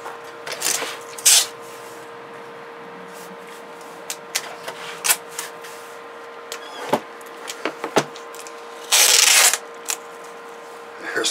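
Packing tape is pulled and rasped off the roll onto a box in a few sharp ripping bursts, the longest near the end, amid small handling clicks and a faint steady hum.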